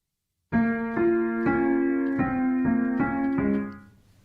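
A Eurorack modular synthesizer imitating a distant school piano plays seven evenly spaced chords with a hollow, distant tone, each note ringing into the next before fading out.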